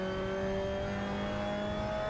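Formula 1600 race car engine in a racing video game at Turagua circuit, a steady droning tone held through the short span, moderately loud with no talk.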